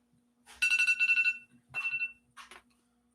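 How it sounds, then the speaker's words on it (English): A leftover electronic alarm rings in two quick bursts of bright, buzzing tone, the first longer than the second, followed by a short faint blip in an otherwise quiet room. "That was the alarm was still left from the last one"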